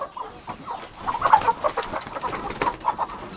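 Chickens and young fowl cluck and squawk in a coop as sugar cane is tossed in, a busy run of short close calls that rise and fall without pause.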